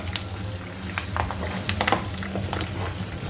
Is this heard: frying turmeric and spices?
yes